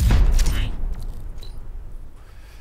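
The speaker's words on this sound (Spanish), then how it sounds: "En este caso vamos a usar la escopeta fogueadora." A single loud shotgun blast in a video game at the start, followed by a fading rumble and faint clicks.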